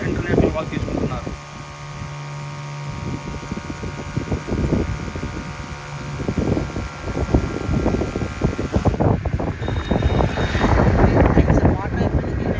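An agricultural crop-spraying drone gives a steady, loud mechanical whir like a fan or small aircraft, with wind buffeting the microphone and a voice talking over it.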